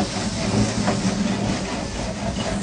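An onion scrubbed across a hot grill, giving a close, steady sizzling hiss with rough scraping texture that runs continuously through the short moment.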